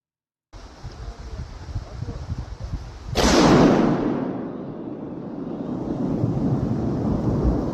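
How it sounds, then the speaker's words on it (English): An avalanche control howitzer fires once with a sudden heavy boom that rolls off into a long rumbling decay over steady wind noise outdoors, set against mountain air with faint background murmur before the shot. "Avalanche control howitzer?"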